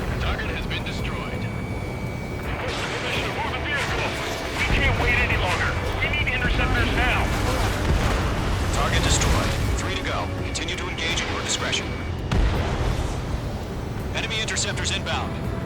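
Gunfire and explosions from the video game Ace Combat 7 rumble continuously with repeated sharp cracks and booms, dense and steady, layered under radio voices talking over the battle.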